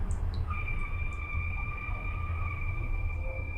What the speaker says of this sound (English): that's the sound of a boat sinking.